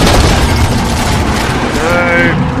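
Dense, continuous gunfire and explosions from a Halo 4 Big Team Slayer match on the Exile map, loud and unbroken throughout, with a brief electronic tone near the end over the constant battle noise.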